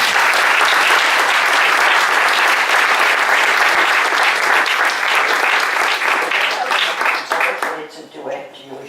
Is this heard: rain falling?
no